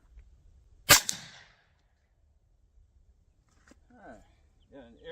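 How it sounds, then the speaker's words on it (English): A single sharp rifle shot from a Rossi survival rifle with a 16-inch barrel, fired outdoors at 50 yards. It cracks loud and close, then decays, followed by a quiet pause and someone speaking. "Just seeing what the difference is going through the Rossi survival rifle."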